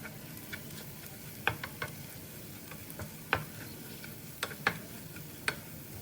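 Spatula stirring softened onions with coriander powder and garam masala in a pan, soft sizzling under scattered sharp clicks and scrapes of utensil against metal, irregularly spaced and fairly quiet.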